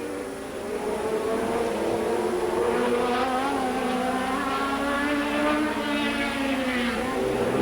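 Can-Am race cars roar past in a 1982 Grand Prix at the Trois-Rivières street circuit, loud sustained engine snarl with rising and falling pitch as several cars pass close, under race commentary.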